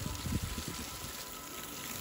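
Water poured out for bathing, a brief gushing splash at the start that settles into a steady, fairly quiet rush of flowing water.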